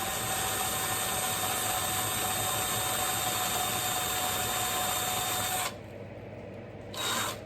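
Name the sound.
drilling a hole in a tin toy car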